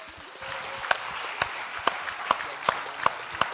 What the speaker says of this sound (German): Euer verdienter großer Applaus